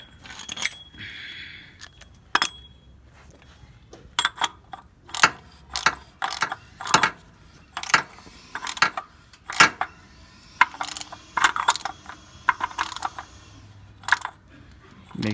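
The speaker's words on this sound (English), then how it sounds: "Take the ratchet." A ratchet tightening the oil filter housing on a Toyota Prius during an oil change, bursts of quick metallic clicking strokes in repeated spurts with short pauses between, close up and without speech.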